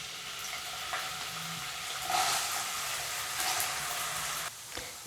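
Thinly sliced potato frying in hot oil, a steady crackling sizzle with brief bursts of louder spitting, close and continuous with no voices.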